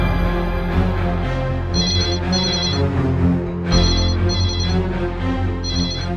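Telephone ringing in repeated short trilling bursts, loud and close, layered over dramatic background music in an action movie scene.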